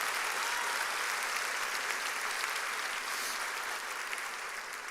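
Church congregation applauding during a sermon, steady dense clapping throughout that stays fairly distant and even, fading slightly at the end.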